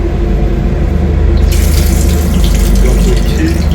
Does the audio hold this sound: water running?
yes